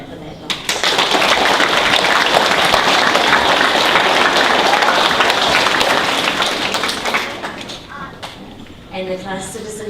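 Children and staff at an end-of-year school assembly break into loud, dense applause that swells quickly and carries on for several seconds before thinning out, with voices emerging near the end.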